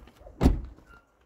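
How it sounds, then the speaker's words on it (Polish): A car door shuts with a single solid, close thunk, followed by a brief faint rattle in an otherwise quiet space. "Te drzwi tutaj też się świetnie zamykają. Fajny mają dźwięk."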